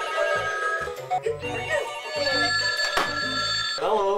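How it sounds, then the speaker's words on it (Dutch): An old collector's telephone rings in a home in Lisse, a repeated warbling electronic bell in short bursts, loud and close with no talk over it. "Verzamelaar Harry heeft een probleem als zijn telefoon rinkelt."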